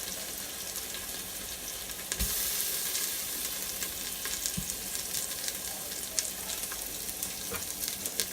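Ingredients sizzle steadily in an Instant Pot while making black-eyed peas, a continuous soft frying hiss with a few faint clicks and a brief thump partway through.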